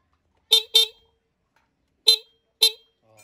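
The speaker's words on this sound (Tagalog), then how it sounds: "Okay, meron pa rin lakas yung ating busina." Four short honks from a stock Honda Wave motorcycle horn, sounding as two quick pairs with a pause between them, loud and close with nothing else around them.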